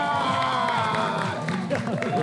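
Studio audience claps and cheers loudly, a dense wash of applause and crowd voices with some shouts, continuous throughout.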